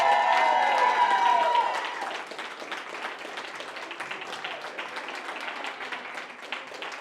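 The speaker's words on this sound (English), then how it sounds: "another round of applause, the whole Nepantla team who she brought with her" Applause and some cheering from a crowd at an election night victory speech in Albuquerque, loud at first with a voice over it, then settling into steady, dense clapping that continues to the end.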